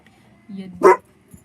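A dog gives a short whimpering whine followed by one sharp bark, close to the listener, with a faint soft sound just after it in an otherwise quiet room.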